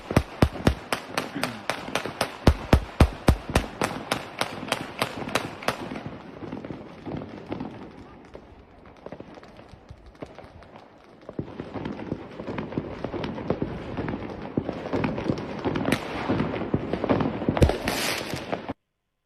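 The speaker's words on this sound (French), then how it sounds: "Qu'est-ce qu'on attend pour interdire ces putains de pétards de merde?" Fireworks and firecrackers bang across a neighbourhood on New Year's night, a rapid crackling string of sharp pops at first, then denser rolling bursts and crackles continuing loudly throughout.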